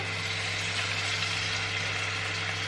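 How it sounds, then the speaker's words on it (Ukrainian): Liver sizzles in a frying pan while being cooked for a homemade liver pâté: a soft, steady hiss of frying that holds evenly throughout, with no voices. "будемо смажити зараз з вами печінку"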